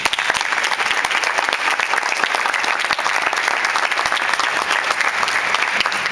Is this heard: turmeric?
no